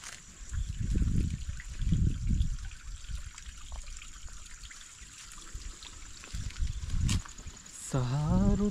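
Spring-fed stream trickling in dense forest, a steady soft flow of water with low rumbling bursts, close by; no talk, with a brief tonal sound near the end.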